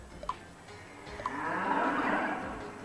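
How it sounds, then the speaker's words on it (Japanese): Cow mooing in the Miitopia video game, a long drawn-out low moo swelling in the middle of the clip and fading, heard alone after a couple of short game blips. "奥の方から聞こえるのも相当だろう、牛の声が"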